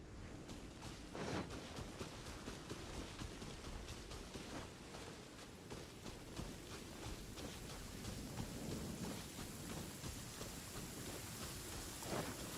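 Steady heavy rain pours down continuously in the video game Genshin Impact, a dense hiss with scattered louder drops and no voices.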